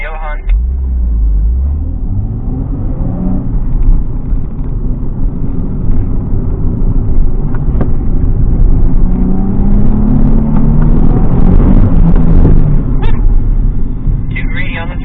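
Car engine droning and surging through a slalom exercise, loud and continuous with rising and falling revs as the throttle is worked, while a voice talks over it.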